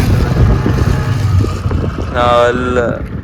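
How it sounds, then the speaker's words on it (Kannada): A fishing boat's engine rumbles close by as it approaches the dock, beneath people talking, with a brief tonal whine rising near the end. "ಈಗ ಡಾಕ್ ಹತ್ರ ಬಂತು ಯಾವ ದೋಣಿ"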